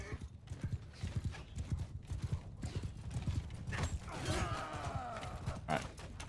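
Horses gallop in Mount and Blade II Bannerlord, a steady rapid clatter of hooves close by, with a whinny and faint battle noise over the galloping and no talk.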